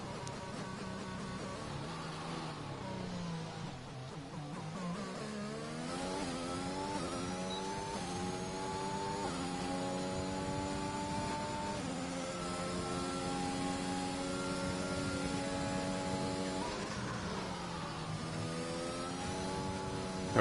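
A racing car engine in a video game revs and climbs through the gears in long rising sweeps, steady and fairly faint, with no talk over it.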